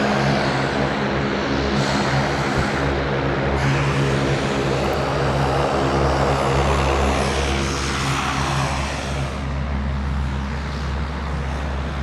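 A fixed-wing airliner landing at night at Sydney Airport, its engines a loud, steady roar that holds for the whole stretch with a faint shift toward the end, heard alone without talk.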